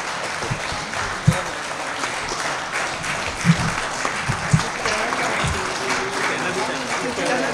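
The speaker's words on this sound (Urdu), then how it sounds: "مختار گوہر صاحب کے لیے بہت زیادہ تالیاں ہونی چاہیے" An audience at an anniversary ceremony for Jasarat newspaper claps steadily through the stretch, with a few sharper thumps and some voices mixed underneath.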